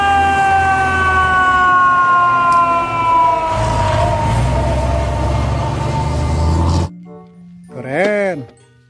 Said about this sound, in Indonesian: Wadidaw, ada mobil pemadam kebakaran.